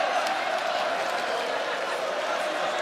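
A sold-out crowd at the Coca-Cola Arena roars during a lightweight title fight, a dense, steady wash of cheering and noise with a commentator's voice over it.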